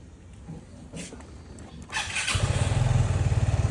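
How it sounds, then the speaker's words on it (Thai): A Vespa Sprint S150 scooter with its original engine starts up and settles into a steady, even idle, close by; the quiet putter becomes a rhythmic low thrum. "เครื่องเงียบมากๆคนใช้งานยาวๆได้เลย"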